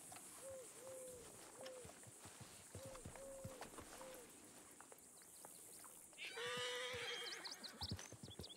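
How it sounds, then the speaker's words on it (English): A horse whinnies several times in short, high, repeated calls, then a louder, busier burst of neighing rises near the end, with no talk over it. "I think that horse might be a little bit protective of them"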